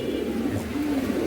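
Pigeons cooing in a loft where pairs of birds, including red carrier pigeons, are being shown for sale; a steady, close, low rolling coo continues throughout with no talking.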